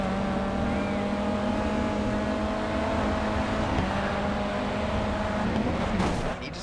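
Race cars in the Grid 2 racing game drone steadily at close range, a continuous engine tone holding level for several seconds before a brief shift and slight drop at the end.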